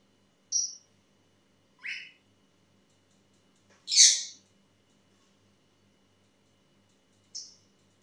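A pet bird gives four short, bright calls spaced a few seconds apart, moderately close in an otherwise quiet room.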